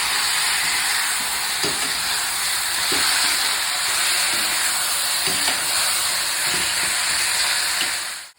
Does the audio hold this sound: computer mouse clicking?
no